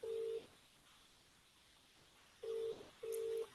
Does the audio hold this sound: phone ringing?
yes